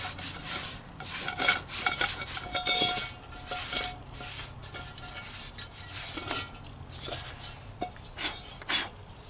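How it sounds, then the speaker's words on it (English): Rag wiping ash and rust out of a cast iron roasting pot, close scratchy rubbing strokes in uneven bursts, louder early then softer and intermittent, with no talk. "just going to simply wipe out the ash now"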